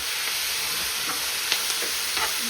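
Onions, garlic, curry leaves and tomato sauté in a pan for bitter gourd curry, giving a steady close sizzle with a few soft stirring scrapes and no talk.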